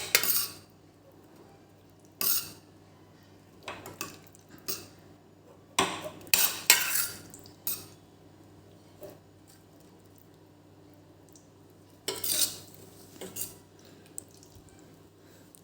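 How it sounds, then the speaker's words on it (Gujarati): A spoon stirs and mashes bottle gourd curry in a pot, giving soft, intermittent scrapes and light metallic clinks spaced a second or two apart, close and quiet with no voices. "એકવાર એને આપણે હલાવી લઈશું અને થોડુંક આપણે શાકને મેશ કરીશું આવી રીતે ચમચાથી"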